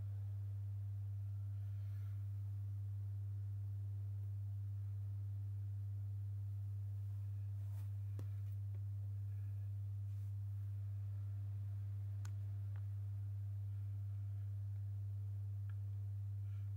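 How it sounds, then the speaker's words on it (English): A steady low 100 hertz sine wave tone hums continuously without change, with a few faint clicks. "let's stick with the sine wave"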